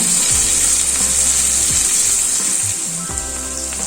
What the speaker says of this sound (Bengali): এবার আমি কাঁকরোলগুলোকে গোল্ডেন ব্রাউন করে ভেজে নেব।